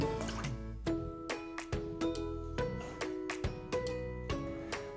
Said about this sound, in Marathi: तर आता आपण सगळ्यात पहिले ह्या चिकामध्ये हे आपण दूध मिक्स करून घेऊया